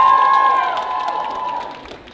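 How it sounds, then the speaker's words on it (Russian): Audience applause for a cosplayer at a convention, a steady wash of clapping and cheering beneath a fading musical tone, tapering off over about two seconds. "Аплодисменты."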